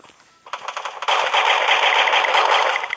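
Rapid automatic gunfire from a rifle in a Counter-Strike ranked match, a short burst followed by a sustained, loud, dense stream of shots with no talking.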